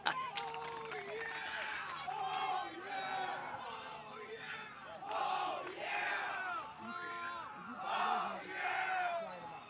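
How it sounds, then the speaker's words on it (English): Sideline crowd at an ultimate frisbee club championship match cheering and chanting in repeated swells, a loud group of voices rising and falling in rhythmic bursts while a commentator talks over them. "Kind of a cheer battle going on the sideline here."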